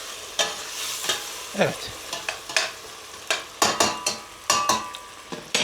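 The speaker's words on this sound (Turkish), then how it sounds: "Domatesini ilave ettik. Karıştırıyoruz." A spoon stirs chopped tomatoes into a pot of frying oxtail and chickpea stew, giving a series of soft scraping clacks against the pan over a low sizzle, with a brief spoken word.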